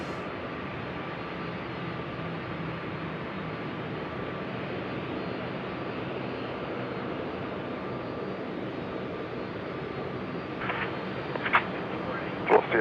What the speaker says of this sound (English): A330 coming in now, the 330-300 service from Kuala Lumpur